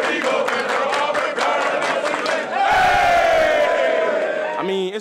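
A packed Auburn football stadium crowd roars and chants in unison, a dense, loud wall of voices that swells louder partway through, with shouting rising above the din.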